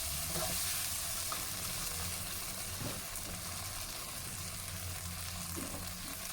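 Capsicum lightly sautéing in a pan for a tofu sambal chilli fry, a steady soft sizzle with occasional gentle stirring scrapes, fairly quiet and with no talk.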